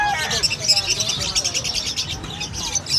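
Many caged pet birds chirp and tweet at a busy bird market, a dense, steady twittering that carries on throughout with voices mixed underneath.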